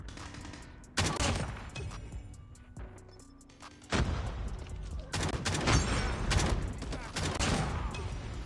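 Dense shotgun and rifle fire from a Call of Duty Mobile match, including the ECHO shotgun: loud bursts of overlapping shots break in around the one- and four-second marks, then keep up a near-continuous barrage.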